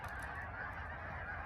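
A flock of geese honks outdoors on a cold winter night, several overlapping calls close by and fairly loud, with no talk over them.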